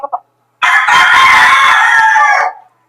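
A gamefowl bullstag rooster crows once, loud and close, in a single sustained call lasting about two seconds, preceded by a couple of faint short clucks.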